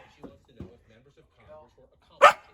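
A group of dogs in a car yip and bark: a few faint soft woofs, then one sharp, loud bark near the end, with people talking nearby.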